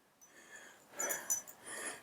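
Soft, short sniffing bursts from a dog close by, a few quick snuffles clustered together with quieter breathy noise between them.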